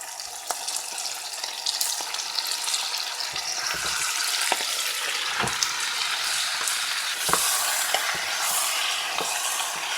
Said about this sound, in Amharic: We will add all our marinated beef.